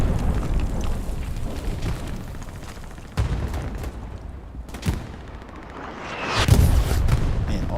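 Artillery explosions in the video game Hell Let Loose on the Omaha map arrive as a few heavy booms and sharp cracks, with a louder rumbling blast near the end over continuous battlefield noise.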